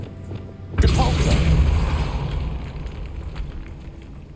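The Depulso spell goes off in Hogwarts Legacy on PS5 with a sudden booming burst that rumbles and fades slowly over a few seconds, loud and close.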